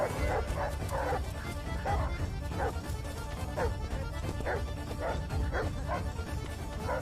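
Several dogs bark and yip in short bursts while chasing people outdoors, heard over a loud, dense background of running and commotion for about seven seconds.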